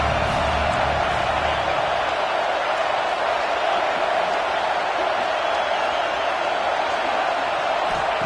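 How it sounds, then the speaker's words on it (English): A stadium crowd at a football game roars for the defense on third down, a dense, sustained wall of cheering that holds steady throughout. "Decibels rising as the crowd gets behind this defense on third down."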